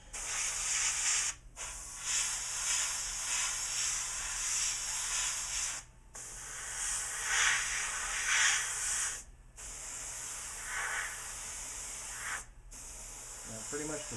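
An airbrush sprays multiple coats of metallic blue paint onto a tiger-stripe scale model. The steady, close hiss runs in long bursts, broken by four brief pauses.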